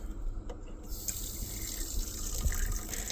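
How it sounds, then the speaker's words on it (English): Residual water draining from opened taps in a 320s RV camper, a soft steady trickle and splash into a sink that starts faintly and fills out after a moment, continuing alone without talk. "I'm going to let the residual water drain out here"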